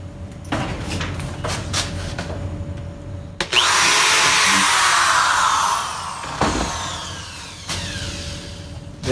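A power drill bores an entry hole into a wooden barn owl nesting box, whirring loudly and close for about three seconds between quieter workshop handling sounds.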